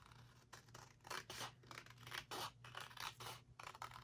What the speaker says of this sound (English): This needs to be cut. I'll just do it by scissors.